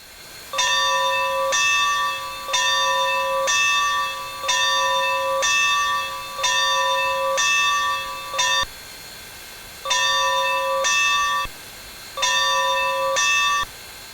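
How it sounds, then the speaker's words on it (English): Locomotive bell ringing in Train Simulator on the Rio Grande Southern route, a loud, close metallic clang repeating at a steady rhythm in several runs, cutting off abruptly between bursts rather than fading out. "You can ring the bell by pressing the B key"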